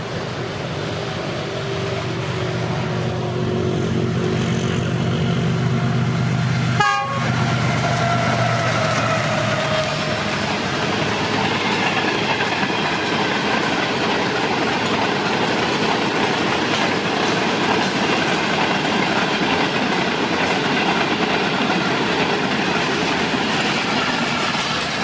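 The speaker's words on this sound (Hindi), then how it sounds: "आने वाली ट्रेन होगी कराची और लाहौर के दरमियान चलने वाली 33 पाक बिज़नेस एक्सप्रेस" Pak Business Express passenger train hauled by a GE locomotive rolling past at speed near Lahore, Pakistan, a loud steady rumble of wheels and carriages filling the whole stretch with a brief sharp horn-like burst early on, no voices.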